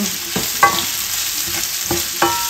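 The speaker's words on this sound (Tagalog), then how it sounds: "Igigisa po natin maayos ang sibuyas hanggang medyo madurog" Onions sauté in a pan for a beef binungkos dish, a steady close sizzle broken by a handful of spatula scrapes and stirs at uneven intervals, with no voices.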